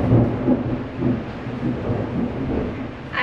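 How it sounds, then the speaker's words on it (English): Heavy rain outside during a storm, with low thunder rumbling steadily through the clip, muffled as if heard from inside a dark bathroom. "I'm not sure if you can hear the thunder outside,"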